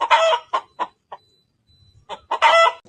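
A chicken clucks and squawks close by, a burst of loud calls, a pause with a faint low murmur, then another excited run of clucks.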